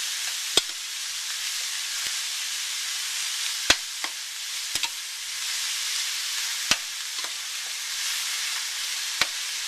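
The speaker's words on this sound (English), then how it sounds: "Stir that in." Flat iron steak or hamburger being stirred into a hot frying pan for tacos: a constant loud sizzle broken by sporadic sharp clicks and scrapes of a utensil against the pan.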